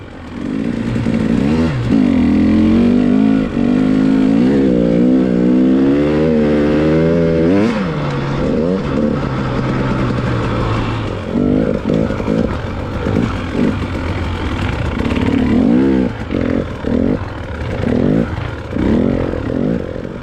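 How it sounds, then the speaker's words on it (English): A dirt bike engine labors through deep snow in winter, revving and bogging with rising and falling pitch, loud and close for the whole ride, with occasional clatter as the front end slews around. "You can see the front end of the bike slewing around a little bit in the deeper snow."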